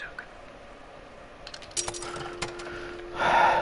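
In The Occupation video game, a token clinks into a telephone's coin slot with a few small metallic clicks and taps, then a sustained tone and a brighter burst at the end.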